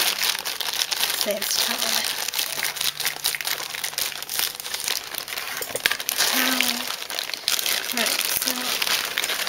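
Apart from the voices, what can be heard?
figure packaging rolled up and cut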